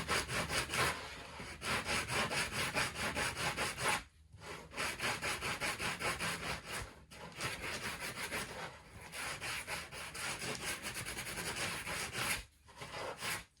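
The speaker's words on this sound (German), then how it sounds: "Dass man einmal rüber geht mit einem groben Schleifpapier." Steady rasping of coarse 40- or 60-grit sandpaper scraped back and forth over wood in long strokes, with a few brief pauses, close and loud, no talking.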